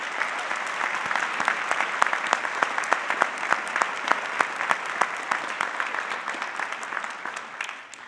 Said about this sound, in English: we need to give her a huge round of applause